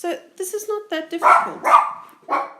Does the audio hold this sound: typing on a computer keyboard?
no